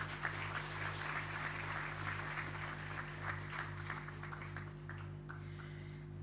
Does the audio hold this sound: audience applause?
yes